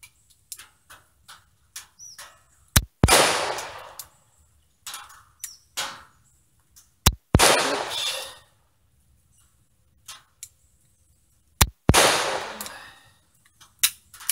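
A Nagant M1895 revolver fires three loud, sharp shots at an outdoor range, spaced several seconds apart, each ringing out and decaying, with mechanical clicks of the action in between.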